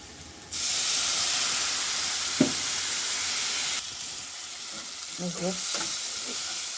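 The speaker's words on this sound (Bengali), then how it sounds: "হালকা একটু পানি দিই" Cumin and coriander powder frying in a pan as a splash of water goes in, giving a steady loud hiss that jumps up suddenly, with a few soft clinks and stirring knocks near the end.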